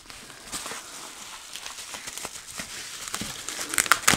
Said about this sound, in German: Wenn wir das mal von der Folie befreien.